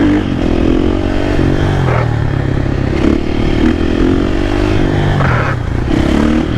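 A supermoto motorcycle engine revs steadily on a night ride through city streets, a loud, continuous drone with brief throttle rises and dips, close and unbroken throughout.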